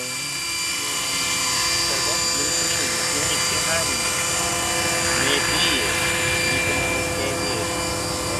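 A Hirobo Shuttle electric RC helicopter flies over an open field, its steady whine with bright high-pitched rotor and motor tones running continuously at moderate distance, while people chat nearby.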